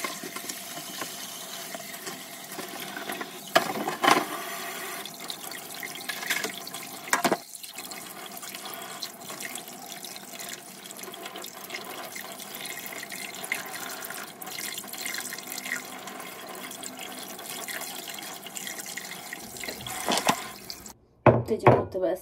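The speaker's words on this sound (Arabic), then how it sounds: "بغسله شويه تحت الميه كويس جدا" Tap water runs steadily into a sink as fish is rinsed beneath it, with a few splashy bursts and some handling noise, and a voice is faintly heard partway through.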